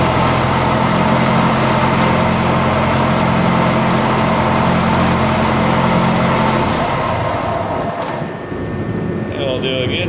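A cold diesel engine idles with a steady low rumble after injector work, then cuts out near the end before a brief restart attempt.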